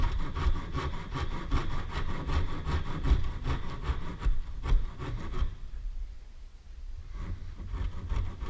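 A hand saw cuts wood for a dovetail joint with rhythmic, close rasping strokes in steady back-and-forth succession, briefly quieting before resuming, with no talking.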